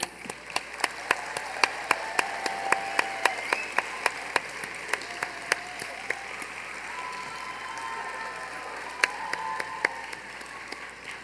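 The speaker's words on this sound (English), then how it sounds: "Round of applause, congratulations." Audience at an awards ceremony claps in a sustained round of applause, many hands giving a dense patter topped by a few sharper, louder claps, fairly close and continuous for the whole stretch.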